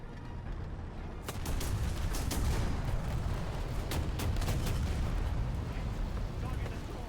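Tank gunfire in War Thunder during a realistic battle: a dense, continuous rumble of booms with sharp cannon reports cracking through at intervals, loud and unbroken throughout.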